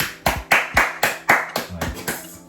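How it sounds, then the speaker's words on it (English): One person claps by hand about nine times in a fairly even rhythm, sharp close slaps that slow slightly toward the end, with no talk over them. "That was so corny for you to clap like that."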